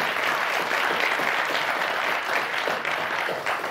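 Studio audience applauding on the French TV word game show Motus: a dense, sustained burst of clapping that fills the room at a steady, loud level for the whole stretch, with no voices over it.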